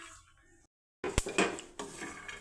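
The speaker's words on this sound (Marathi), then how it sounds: "ह्याच पॅनमध्ये आपण शेंगदाणे भाजून घेऊ।" Peanuts dry-roasting over a low flame are stirred in a pan, giving scraping, rattling and clinking strokes up close after a brief silence, with no voices.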